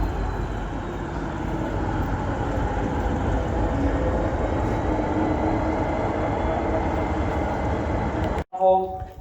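An N class locomotive shunting carriages near Bendigo, a steady, loud low rumble and clatter of the train that runs continuously for several seconds before cutting off abruptly, followed by a brief noise at the end.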